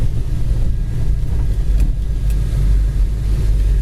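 A 1969 Chevy Chevelle SS drives along with a steady, loud low engine rumble and road noise filling the interior, continuous and close, with light wind buffeting and no talk.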